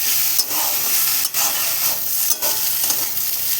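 Raw chickpeas, potato and eggplant stir-frying in hot oil in a pan, a steady broad sizzle with brief dips as the pieces are stirred, close and continuous, no talk.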